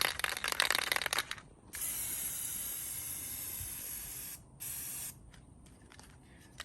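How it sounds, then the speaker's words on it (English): A spray can hisses in bursts while painting a wooden wooden trellis outdoors: a rattling start, then long, close, steady sprays broken by short pauses, ending in quieter, choppier hisses. "When you're spraying a top surface, it's okay to coat it heavily."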